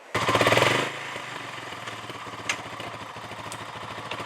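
A rebuilt ATV engine runs with a loud rapid chugging burst at first, then settles into a steady rattling idle, with a couple of sharp clanks along the way.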